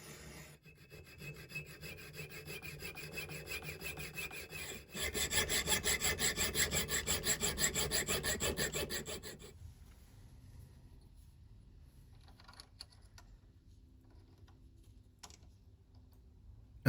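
A metal collet is worked by hand with a saw and file, giving steady rhythmic rasping strokes, faint at first, then louder and quicker mid-clip before fading back to quiet scraping.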